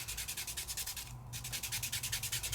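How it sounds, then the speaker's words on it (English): Sandpaper rubbed briskly back and forth across a sheet of paper to sand it down to its core, a steady rhythmic scratching of close, even strokes with one brief pause midway. "all I'm doing is sanding until I get to the core of the paper again"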